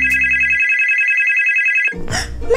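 A telephone rings with a steady, continuous electronic trill, loud and close, lasting almost two seconds before cutting off into a brief burst of other noise.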